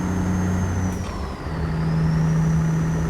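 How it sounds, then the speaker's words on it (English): A Kenworth W900 truck engine revs high while hauling a heavy scraper, a loud steady drone that dips briefly and then climbs and holds as it pulls back up to speed, close and continuous. "I know I'm over revving the engine a little bit there, just trying to get back up to 55"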